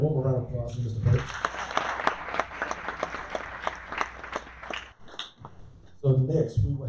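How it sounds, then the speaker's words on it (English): Church audience at a candidate forum claps for a candidate, sharp distinct hand claps building for a few seconds then fading, with a voice speaking before and after. "Hey, one more round of applause for Mr. Birch."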